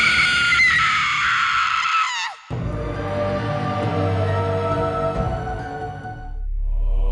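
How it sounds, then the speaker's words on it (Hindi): A woman screams in terror, a long, loud, piercing cry that breaks off abruptly and gives way to a droning, ominous horror-story soundscape with a deep rumble. "उस बच्ची का शैतानी रूप देखकर चंद्रकला चीख पड़ी।"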